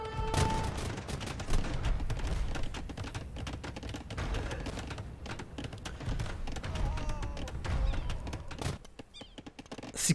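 Bombard cannons firing in an Age of Empires II Definitive Edition free-for-all match, rapid overlapping gunpowder blasts and battle clatter filling the whole stretch, loud and continuous, with faint commentary beneath.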